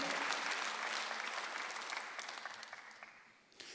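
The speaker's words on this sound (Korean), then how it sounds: "박수 한번 하세요." A church congregation at a Korean Sunday service claps together, loud dense applause at the start that gradually thins and fades, with a brief renewed burst at the very end.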